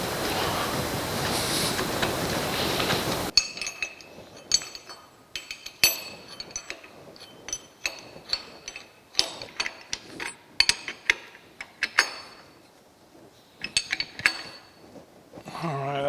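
Small metal clinks and taps come from nuts and bolts being fitted and tightened on a metal planer's support bracket. The sounds are sparse, irregular and close, after a few seconds of steady hiss at the start.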